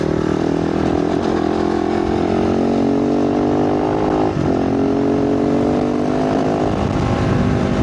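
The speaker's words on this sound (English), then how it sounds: "ripping a motorbike along, whether it's on a track or a nice twisty lane or across a desert or a little dirt track like this" A motorbike rides a dirt track across the desert, its engine droning steadily and close up, pitch dipping briefly as the rider changes gear, with a slight rise in revs toward the end.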